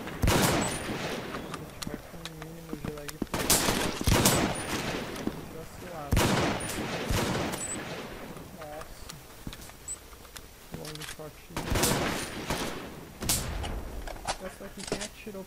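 Gunfire in the shooter game Brain Out, with sharp single shots and short bursts scattered through the clip, some loud and close, alongside other game sounds and someone talking.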